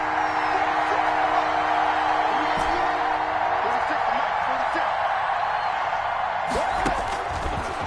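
A football stadium crowd before a big third down gives a broad, loud, continuous roar with scattered whoops and a rising swell near the end.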